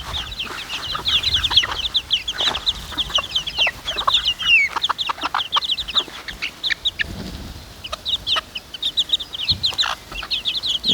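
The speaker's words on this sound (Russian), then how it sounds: "Всего лишь 2 курицы и 8 петухов." Eight roosters and two hens keep up steady clucking and squawking, busy overlapping calls close by, with a few thumps and rustles beneath and no talk.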